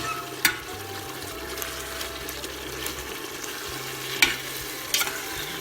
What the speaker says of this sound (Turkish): Etlerimizi şöyle çevire çevire salçasını koymadan önce bir kavuralım.